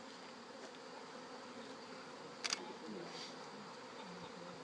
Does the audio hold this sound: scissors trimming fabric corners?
no